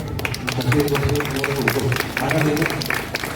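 An audience claps steadily at a Christmas gathering at a care home, dense continuous applause with a voice speaking over it.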